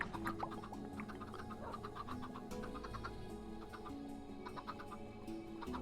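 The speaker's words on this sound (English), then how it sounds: "So chickens are now set up and running." Chickens in a hardcore Minecraft survival world cluck and squawk repeatedly in short scattered bursts over steady background game noise, fairly close and moderately loud, with no talk.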